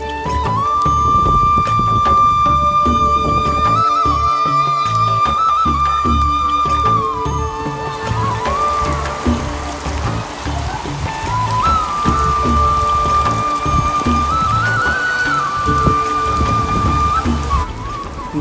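Heavy rain falls steadily in Sialkot, Punjab, a dense, even hiss that holds throughout at close range, with a sustained tonal whistle-like line running above it and no talk.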